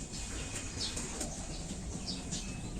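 Racing pigeons return from a hard race and flutter into a loft, with a few soft bursts of wingbeats close by over a constant outdoor hiss.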